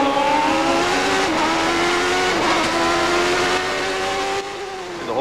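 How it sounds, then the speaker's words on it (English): A Brabham Formula 1 car with a British-built Judd engine races at the 1990 Canadian Grand Prix, its loud high engine note sustained and rising slightly before dropping off near the end. "This Brabham on the latest Judd engine, produced in Britain."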